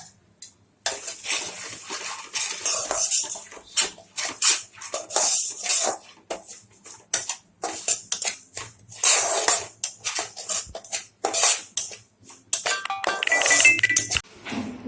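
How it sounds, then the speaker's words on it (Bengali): Semolina is dry-roasted in a pan with a spoon stirring and scraping constantly. The scrapes and rattles come loud and close in an uneven rhythm, with occasional clinks against the metal and no voices. "সুজিটা ভেজে নেব।"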